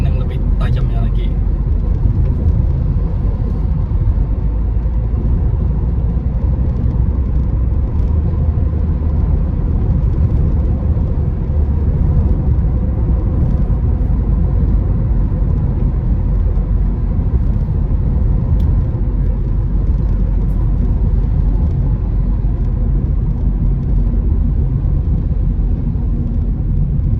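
A Toyota Veloz 2022 LMPV enters a roundabout at about 40 km/h, its steady cabin road rumble and low engine hum holding constant throughout, with a voice talking over it.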